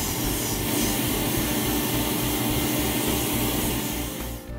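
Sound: vacuum cleaning a gas boiler combustion chamber

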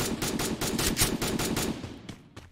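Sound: M79 grenade launcher firing in a video game

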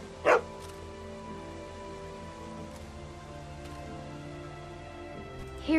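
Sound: dog barking in the video game The Walking Dead

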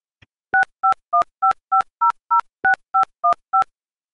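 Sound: telephone dialing tones

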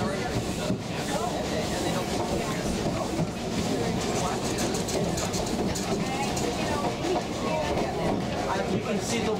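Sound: heavy train accelerating uphill

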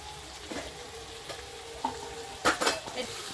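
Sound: stirring and frying meat with potatoes in pan

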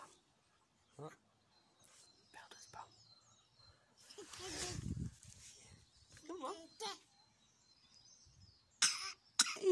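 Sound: cough

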